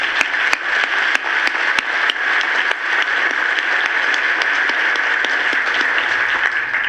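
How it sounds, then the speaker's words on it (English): Steady, loud audience applause at a lecture on GMOs, a dense continuous roar of many hands clapping with sharp individual claps standing out throughout. "let's give applause there"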